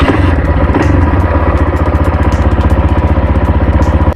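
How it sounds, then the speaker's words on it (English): A Honda XR650R single-cylinder motorcycle, freshly top-end rebuilt, tuned and fitted with a Pulstar spark plug, idles loud and close with a steady, even rapid thumping beat before cutting off abruptly at the end. "Watch how easily the XR650R starts with proper tuning and a Pulstar spark plug."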